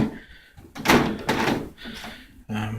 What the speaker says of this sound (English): You could, hear it kind of creaking as I press it in.